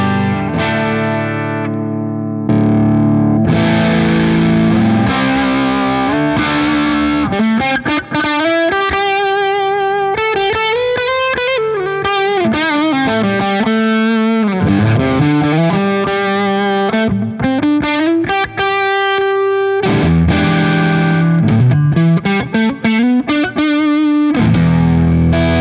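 An electric guitar runs through a Variac fuzz pedal with its knobs around noon, giving thick, buzzing, sustained notes and sliding bends, loud and continuous with a few brief gaps between phrases.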